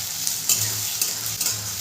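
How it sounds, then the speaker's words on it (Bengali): Sliced onions for alu posto sizzle and fry in a pan, a close, steady crackle. Several soft scrapes of stirring punctuate it in a loose rhythm. "পেঁয়াজটা হালকা ভাজা ভাজা হয়ে গেছে"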